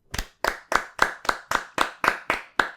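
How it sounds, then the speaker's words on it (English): Nine slow, evenly spaced hand claps ring out close and crisp, a deliberate round of applause with no talking. "And a real round of applause for a clean sheet for Parma."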